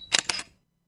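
Camera shutter click from the Ashampoo Snap 11 screen capture tool: a brief, crisp double click with a quick mechanical snap, close and isolated, fading to silence.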